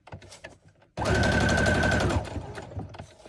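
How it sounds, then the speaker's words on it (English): A sewing machine runs in one fast continuous burst of speed stitching across a fabric Halloween tag, loud and steady for about a second before stopping, with quieter handling noises around it. "a bit of speed stitching."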